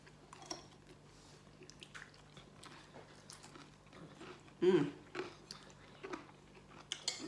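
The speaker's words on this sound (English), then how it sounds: "I know you can hear me crunching." Close, crisp crunching of coleslaw being chewed in short, irregular bites, with occasional louder crunches against a quiet background.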